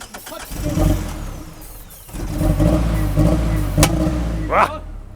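A Nissan 200SX drift car cranks and catches, its engine sputtering and revving unevenly close by while voices talk over it.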